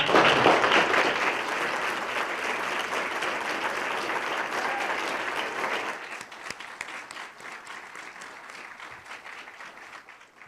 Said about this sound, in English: I'd like to get a big round of applause right now for all the military and veteran caregivers here with us today.